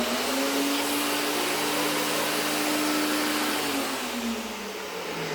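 Motor of a cheap second-hand table saw running after a repair: a loud, continuous whine close by that holds steady, then its pitch sags slightly near the end.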